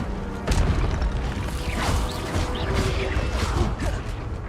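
The Incendio fire spell in Hogwarts Legacy erupts in a loud burst of whooshing flame, followed by several seconds of rumbling, crackling magical effects and impacts.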